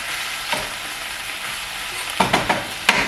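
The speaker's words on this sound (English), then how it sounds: "So I'm just going to saute this." Onions sautéing in a pan give a steady broadband sizzle, with a few sharp stirring scrapes near the end, heard alone without talk.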